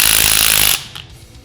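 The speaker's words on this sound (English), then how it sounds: "It's a castle nut tool that we're going to end up using to take out the castle." A castle nut tool, likely driven by a power tool, removes the castle nut from a motorcycle fork, a loud rapid hammering buzz lasting under a second that cuts off abruptly, leaving faint handling sounds.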